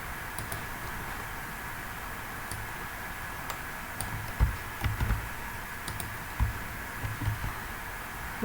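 Code is typed on a computer keyboard in scattered clusters of light, close key clicks over a quiet background hum, with pauses between the bursts.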